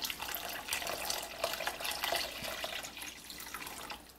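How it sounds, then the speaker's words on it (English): Two cups of water poured into a pot of minestrone soup, a steady splashing gush that is loud at first and then tapers off over about four seconds, with no talk. "now we're going to add just 2 more cups of water"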